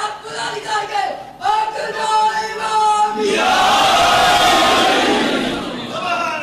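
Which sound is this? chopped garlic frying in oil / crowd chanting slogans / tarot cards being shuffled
crowd chanting slogans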